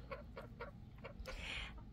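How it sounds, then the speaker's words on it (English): A chicken in a desert garden clucks in a quick series of five or six close, clear calls, ending with a louder squawk, with no talking. "She's our vocal chicken. She always has a lot to say."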